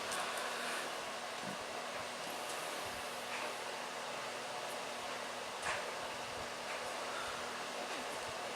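A homemade fireplace blower fan runs with a steady, airy whoosh and faint hum, fairly quiet and continuous, with small occasional knocks.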